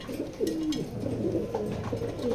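Racing pigeons kept in pairs in a loft give soft, low, rolling coos that repeat steadily and close by over a constant murmur of other birds.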